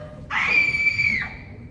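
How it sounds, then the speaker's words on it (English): A person gives one high, sustained scream of about a second, rising sharply and then trailing off, heard at a distance over a quiet room background during a stage drama. "Did you hear that scream"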